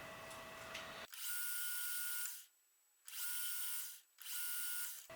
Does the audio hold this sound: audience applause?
no